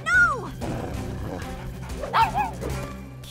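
A cartoon puppy barks and yips in short, bouncy bursts, with whimpering squeaks between, mixed with music and light effects from an animated children's show.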